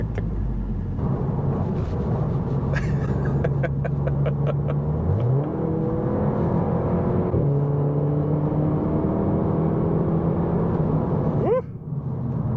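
A Seat Leon Cupra 300's engine and exhaust pull hard while driving, the note climbing steadily through the gears with brief dips at each shift and a crisp pop near the end.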